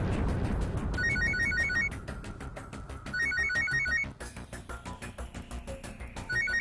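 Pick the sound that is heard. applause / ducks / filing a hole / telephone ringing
telephone ringing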